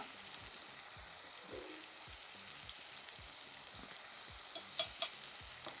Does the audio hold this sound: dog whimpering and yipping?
no